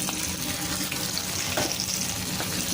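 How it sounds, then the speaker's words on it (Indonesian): Chili for sambal is stir-fried in oil in a pan, a steady close crackling sizzle that runs without pause, with a brief stirring scrape partway through and no voices. "Cabainya kita tumis, tumis seperti ini."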